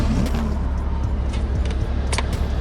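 A 2016 Lamborghini Huracan Spyder's engine starting from the push button, a deep steady low rumble filling the car's cabin close up, with faint small clicks and rattles on top.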